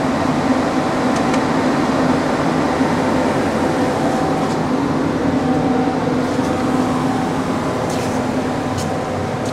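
A Cincinnati 450 CNC horizontal-vertical mill with both spindles engaged gives a steady, continuous mechanical hum and whir, loud and even throughout, with faint ticking on top and no talking.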